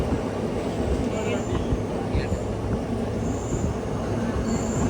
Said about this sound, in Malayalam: ട്രെയിൻ ഇപ്പോൾ വടകര റെയിൽവേ സ്റ്റേഷനിലേക്ക് എത്തിയിരിക്കുകയാണ്